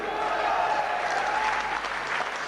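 Steady, dense applause from a seated audience at an Indian stage event honoring a guest, continuous and fairly loud throughout, with a faint voice audible underneath.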